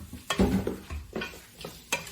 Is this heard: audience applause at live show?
no